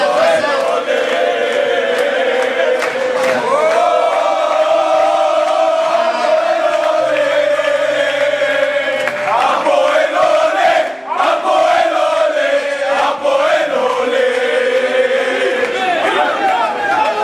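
A loud, sustained crowd roar of cheering and chanting fills the room at Hapoel Tirat HaCarmel football club's end-of-season celebration, with voices shouting over the din throughout.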